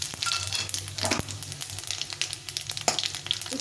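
Dried red chilli and panch phoron frying in hot oil, a continuous close sizzle with occasional crackles and a few sharp stirring scrapes, moderately loud with no talk.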